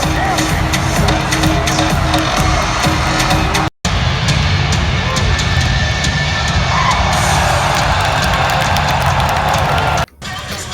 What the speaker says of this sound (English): Lots of people to cheer the Sens on.